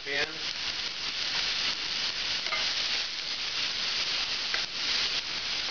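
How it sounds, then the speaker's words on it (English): Mirepoix of carrots, celery and onions sizzles loudly in a hot pan as it is stirred, a close, steady frying hiss that runs the whole time with a few scraping accents. A voice speaks faintly underneath. "Now right away to the same hot pan, we're going to add the mirepoix, carrots, celery, onions."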